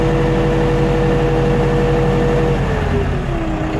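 A Basak 2110 four-cylinder tractor engine runs steadily with the hand throttle on, a loud continuous low throb with a strong, even harmonic hum that holds throughout and shifts slightly in pitch near the end.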